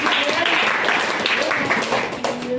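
An audience at a school National Science Day celebration applauds to welcome a presenter coming up for a science experiment, with a continuous burst of clapping and a voice talking over it.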